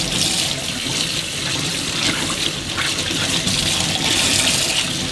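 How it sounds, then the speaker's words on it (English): Water from a kitchen sink tap pours steadily over a Gtech AirRam vacuum filter being rinsed, a continuous close splashing hiss with slight variations as the filter is moved under the stream. "First thing I'm going to do is just rinse the filter"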